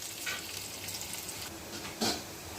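Onions frying in hot oil with black cumin, a steady soft sizzle with faint stirring scrapes and a brief louder burst near the end.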